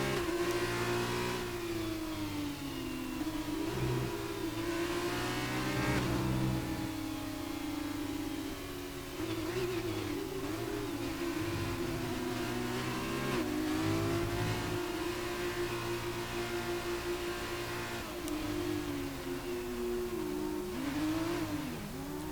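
F2 race cars in a racing game drone and rev continuously, with engine pitch repeatedly rising and dipping as several cars blip their throttles together, loud and close with no talk.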